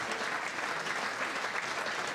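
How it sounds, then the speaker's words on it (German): Steady audience applause at a poetry slam, a dense continuous wash of clapping from a crowd, moderately loud with no voices over it. "dein Applaus, mein Freund"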